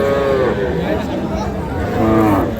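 Sahiwal, Sindhi and local breed dairy cows moo at an outdoor cattle market, two drawn-out calls sounding nearby amid crowd chatter and voices.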